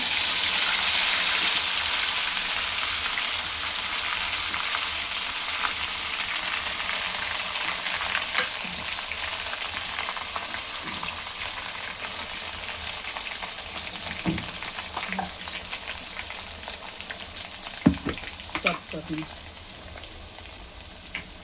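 Bay leaves and masala frying in a generous pour of hot oil, a loud steady sizzle that settles and thins, with stirring scrapes and clinks of a spoon near the end.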